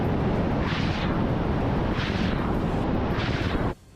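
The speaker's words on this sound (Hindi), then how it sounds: "सेना के चॉपर ताबड़तोड़ फायरिंग करते दिखाई दिए" Russian army helicopters fire missiles in a heavy, continuous roaring barrage, with several louder surging blasts about a second apart before the noise cuts off abruptly; no talk.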